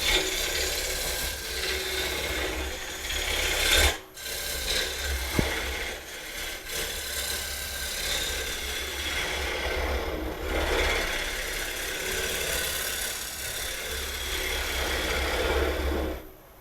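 A gouge hollows the inside of a wooden bowl spinning on a lathe, giving a continuous rough scraping hiss with brief pauses as the cut is lifted and resumed.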